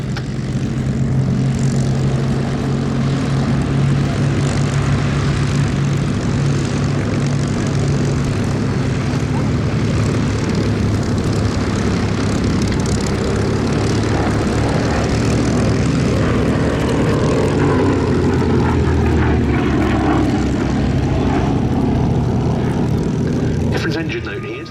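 Propeller warplane engine roaring at an airshow flypast, a loud continuous drone with a steady throbbing tone that holds strong throughout and eases slightly near the end, heard alone.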